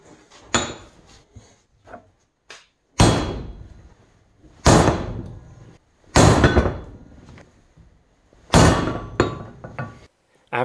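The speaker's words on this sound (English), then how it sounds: "so I can just hammer this out." Heavy metallic hammer blows ring out one at a time with pauses between them, loud and close, each strike followed by a short clanging decay, as a wheel bearing is hammered out.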